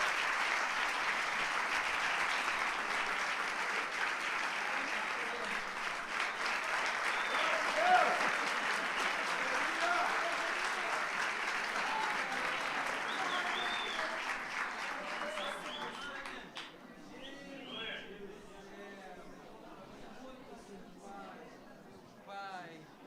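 Church congregation applauding during a celebration service, sustained dense clapping that carries on for about fifteen seconds, then thins out into scattered claps and voices.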